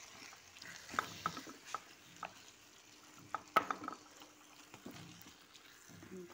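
Tomatoes cooking in a pan for shakshuka, stirred now and then: a quiet sizzle runs throughout, broken by soft scraping and clinking of the utensil against the pan, with a few faint voice sounds.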